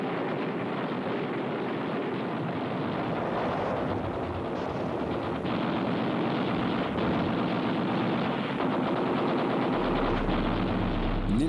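Naval guns hammer away at surfaced German U-boats in a World War II Atlantic battle, rapid gunfire and heavy blasts rolling continuously over a loud, dense background roar with no talking.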